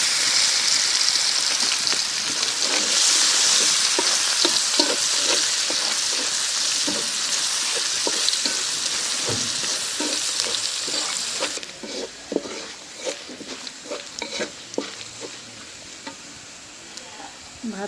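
Crushed garlic frying in a pan after dried chillies sizzles loudly, with frequent stirring scrapes and spatula knocks. The hiss drops off partway through, and sparse clatter and stirring carry on more quietly.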